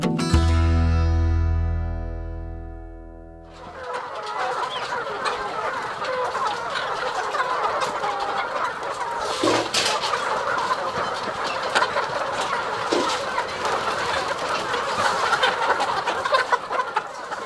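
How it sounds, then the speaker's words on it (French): Laying hens on a poultry farm housing 3,500 birds keep up dense, overlapping clucking from many hens at once, a busy flock chorus that follows a short low musical intro. "une ferme avicole de 3500 poules pondeuses"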